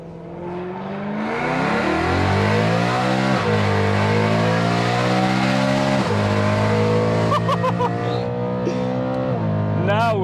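A BMW E92 M3 accelerates hard on the Nürburgring, its engine climbing loudly through the gears with sharp drops at each shift and rising pitch between them, heard from inside the car and very loud.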